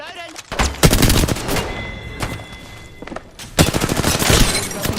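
Video game firefight with loud bursts of rapid gunfire, including machine-gun style volleys and thuds, broken by a short lull before another heavy burst.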